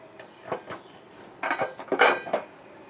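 A pressure cooker lid is worked open after the cooker has cooled, giving a few close metallic clicks and clanks, then a louder burst of scraping and clattering metal in the middle before it quiets.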